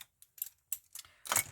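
Several quick, crisp snips of scissors trimming excess paper from a handmade card, close by and irregularly spaced, ending in a longer rustling cut.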